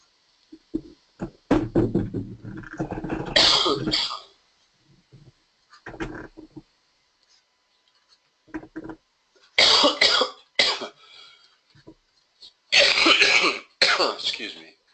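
A person coughs repeatedly in harsh, loud bursts, several clustered fits separated by quiet pauses, close to the listener.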